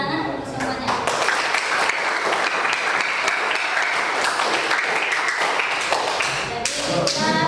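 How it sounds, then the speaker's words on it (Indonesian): A classroom of students claps steadily, the applause dense and even at a fairly loud level and lasting several seconds before it tapers off. "tepuk tangan untuk semuanya"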